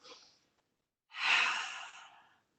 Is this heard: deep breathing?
yes